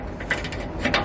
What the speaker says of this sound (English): We're going to take the 15/16 socket